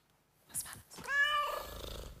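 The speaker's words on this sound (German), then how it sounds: "Da hat uns die Katze aber einen Schrecken eingejagt, ne?" A stray cat meows loudly and drawn-out at close range, preceded by brief rustling and a short sharp sound.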